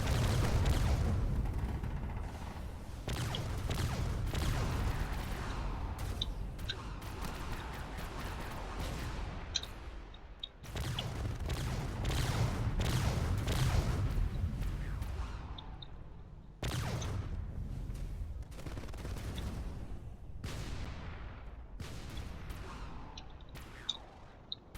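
A video game cruiser launching missiles and firing point defenses, a continuous, dense roar of rumbling launches, explosions and rapid fire, loud and sustained with brief breaks between heavy salvos.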